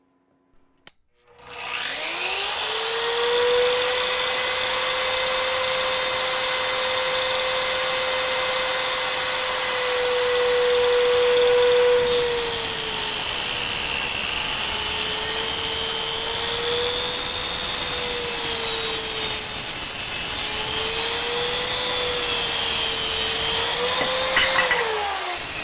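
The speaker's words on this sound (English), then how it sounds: "So I decided to pull out my track saw and cut that straight line with the track saw." Track saw spinning up and cutting a long straight line through wood, a loud sustained whining drone with slight pitch dips as the blade loads, ending as the cut finishes.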